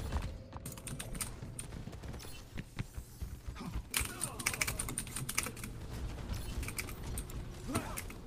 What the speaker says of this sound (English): hit that keyboard harder